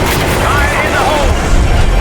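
A grenade explosion booms in the video game Call of Duty Black Ops 6, a loud, deep, rumbling blast that fills the whole short span with a low roar and a voice shouting over it.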